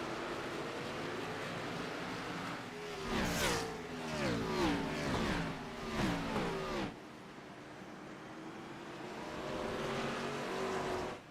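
Race cars circle Martinsville in a racing video game, engines droning loudly with repeated sweeping pitch rises as several cars pass close by, then settling into a steadier, quieter hum.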